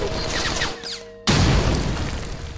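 Grenade blast taking out a turret in Wolfenstein: Blade of Agony, a single sudden loud boom after a quieter stretch of game ambience, followed by a long rumbling decay.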